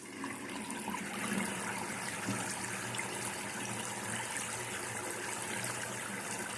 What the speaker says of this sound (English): that water is flowing right down the drain